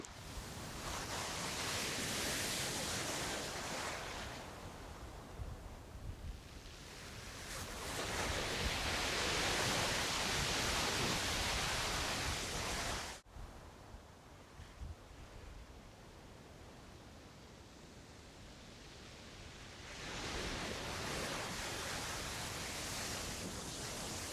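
Ocean waves and surf roll in, broad hissing washes that swell, recede and swell again, with a sharp drop midway before the surge returns, heard up close with some wind buffeting and no voices.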